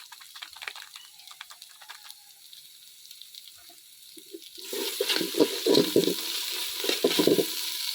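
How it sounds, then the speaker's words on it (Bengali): Cumin and coriander powders frying and being stirred in a pan for biryani, a soft steady sizzle that swells louder halfway through with scraping stir strokes over it. "এবার মশলাটা একটু ভালো করে কষিয়ে নিই।"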